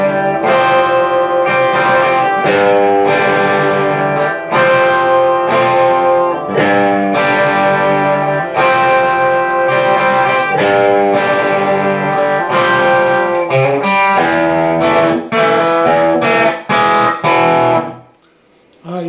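Distorted electric guitar playing the verse riff of a song, a walk-up from the open low string, in a steady run of punchy chords and single notes, loud and close, lasting about eighteen seconds before stopping abruptly.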